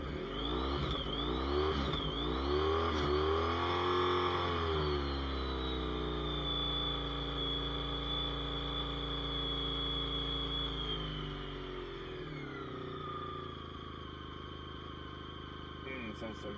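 A revived motorcycle engine runs near and loud, revving up and down in rising and falling sweeps before settling into a steady, even idle.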